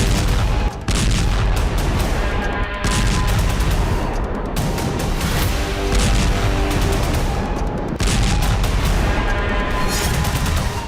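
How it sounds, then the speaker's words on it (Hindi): Heavy bombardment in Lebanon at the start of a ground offensive, a dense, continuous roar of explosions and rapid gunfire with repeated sharp bursts, loud and saturated for the whole stretch. "लेबनान में कुछ इसी तरह भीषण बमबारी के साथ ही आईडीएफ के ग्राउंड ऑपरेशन की शुरुआत हुई।"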